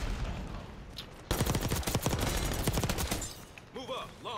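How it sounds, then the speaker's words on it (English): Rapid video-game gunfire erupts after a quiet stretch, a dense, loud burst of overlapping shots lasting about two seconds, followed by a brief voice. "Couple shots fired"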